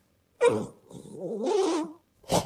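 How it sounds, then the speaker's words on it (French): A dog gives a couple of short vocal bursts, with a longer growling, whining sound in the middle, close and moderately loud, each separated by brief pauses. "Bah, c'est un chien."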